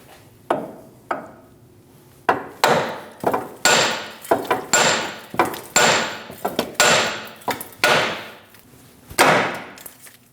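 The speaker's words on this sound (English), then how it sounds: "Tap that knuckle and release that upper ball joint." Steel hammer striking the steering knuckle of a 2001-2006 Chevrolet Silverado front suspension to free the upper ball joint: about a dozen sharp metallic blows in an uneven rhythm, each ringing briefly, close and loud with no talking.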